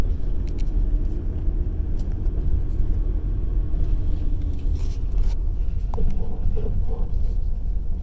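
A manual Ford Ranger drives in second gear, a steady low engine and road rumble filling the cab with faint wind noise throughout.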